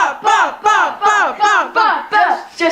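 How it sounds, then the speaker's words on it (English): Crowd in an indoor venue yelling and chanting a single short word together, loud and close, in a steady rhythm of about seven evenly spaced bursts with brief gaps between them. "Everybody just started yelling."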